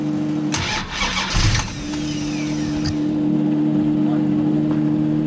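A Plymouth Barracuda drag car's big-block engine cranks in a few quick bursts, then catches and settles into a loud, steady idle, heard up close.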